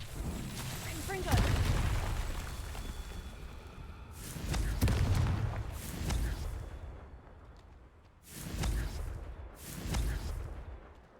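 Blasting spell cast in Hogwarts Legacy, heard as several heavy booming bursts at intervals, loud and close, with crackling debris after each one.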